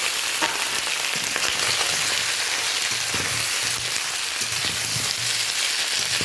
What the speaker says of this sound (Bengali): এই পর্যায়ে আমি ঝিঙেগুলো তুলে দিলাম